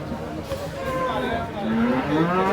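A cow lows at a busy cattle market in Kerala, a long rising moo held over steady crowd noise and background chatter.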